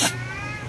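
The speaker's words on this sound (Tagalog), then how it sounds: "Sabi, pusa!" A single short cat meow, close and fairly loud, trailing off quickly into a low background drone of water or engine noise, with no talk over it.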